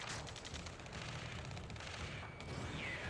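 Gunfire in Ace Combat 7, continuous rattling bursts of automatic fire with booming impacts, dense and moderately loud, blending into a noisy battlefield backdrop.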